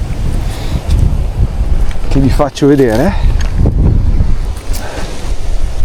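Strong wind buffeting a microphone outdoors by the sea at night, a steady loud roar with gusting rumble throughout, while someone talks over it.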